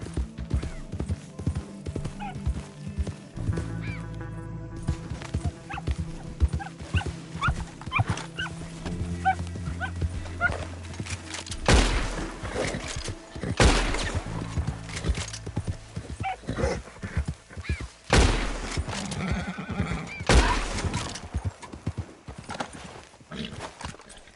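Horse in Red Dead Redemption 2 with steady clip-clop hooves and bursts of neighing and whinnying, loud and close, with game sounds in the mix.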